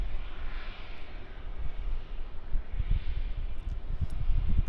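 A China Southern airliner departs Melbourne Airport, its jet engines giving a continuous low rumbling roar that swells slightly as it goes, heard from a distance with no talking.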